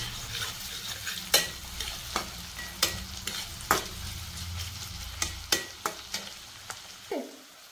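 Chopped onion fries in a pan, a low steady sizzle broken by repeated sharp scrapes and knocks of a spatula stirring it, close by, ending in a brief clatter.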